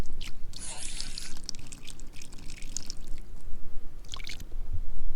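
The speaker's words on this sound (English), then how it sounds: "Now let's hit it with some water." Water from a hose splashes and drips onto the sunroof drain area of a 2006 Lexus ES330, producing close, uneven splashing and trickling with bursts of spray over a steady wet background.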